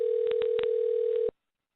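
A telephone line sounds a steady electronic tone from an unexpected other connection, continuous and loud for over a second before cutting off abruptly.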